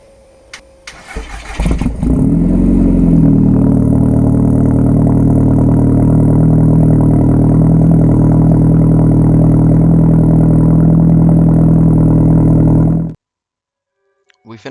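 A Seat Leon Cupra MK2 with a custom fabricated exhaust cranks and fires up, then settles into a loud, deep, steady idle heard up close for about ten seconds before the engine is shut off abruptly into silence.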